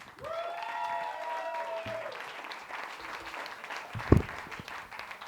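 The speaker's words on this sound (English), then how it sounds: "Put your hands together for James Mack." Audience clapping as a comedian takes the stage at a veterans comedy night; a steady wash of applause runs throughout, with a tonal whistle-like sound over the first two seconds and a sharp thump near the end.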